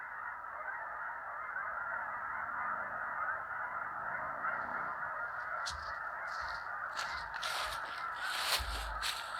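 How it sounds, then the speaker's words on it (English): Geese honking about a quarter mile away, faint scattered calls over a steady outdoor hiss, with a few sharper nearby clicks and knocks toward the end. "the geese are just that way"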